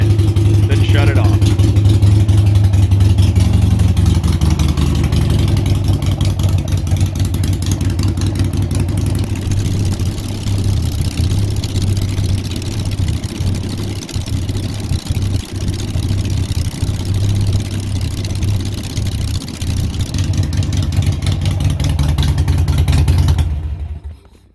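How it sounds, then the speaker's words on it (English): A Harley-Davidson Sportster Iron 883 engine idles for about 24 seconds, a loud steady low rumble with a rough, even pulse that cuts off abruptly at the end. "Bike run for about 1 minute, then shut it off."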